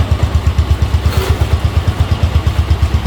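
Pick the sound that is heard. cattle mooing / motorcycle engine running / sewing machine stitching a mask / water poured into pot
motorcycle engine running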